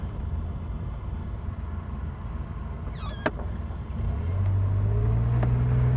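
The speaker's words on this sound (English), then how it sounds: "the acceleration on the DeLorean is not exactly something it's famous for" A DeLorean drives along with a steady low engine rumble that swells and thickens as it accelerates toward the end, with a brief click partway through.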